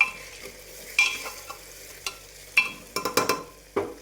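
Roasted sprouted moth beans with onion, tomato and turmeric stirred in a hot pan, a soft sizzle under a series of close, sharp scraping strokes of a spoon, with several quick strokes bunched together near the end.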